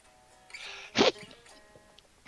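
A single short, sharp sneeze during a music talk show, quick and moderately loud against a quiet room, with faint murmuring before and after.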